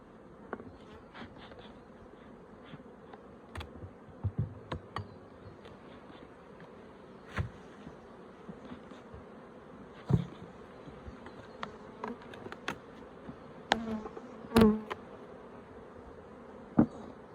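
Honeybees buzz in an opened brood box of a stressed, queenless hive, a steady soft hum with occasional close buzzing passes and small clicks from handling frames.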